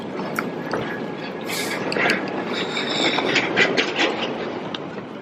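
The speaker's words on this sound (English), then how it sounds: "But then here go the tram, right?" A tram pulls into a Scottish city centre with a steady rumble and clattering wheels, and brief high clicks and squeals ring out nearby.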